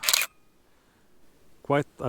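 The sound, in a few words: Nikon D100 DSLR camera shutter firing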